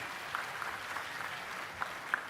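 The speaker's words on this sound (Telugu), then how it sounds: "ఆయన గట్టిగా చప్పట్లు కొట్టి అభినందించండి" An audience at a large parent-teacher meeting where the Chief Minister is speaking breaks into loud, sustained clapping, a dense continuous wash of hand claps with a few sharper individual claps standing out.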